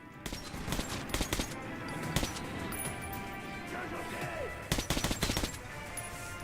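Bursts of gunfire in the Metro 2033 Redux shooter, with clustered shots early on and again near the end over a steady rumbling game backdrop.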